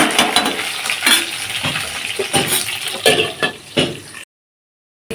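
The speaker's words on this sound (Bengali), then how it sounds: "আর তো কালো জিরেটা ফোড়ন হয়ে গেছে, এবারে আমি বেগুনটা এর মধ্যে দিয়ে দিচ্ছি।" Eggplant pieces frying in hot oil in a pan with black cumin seeds, a steady close sizzle with scraping stirs and utensil clinks, ending in a short silence.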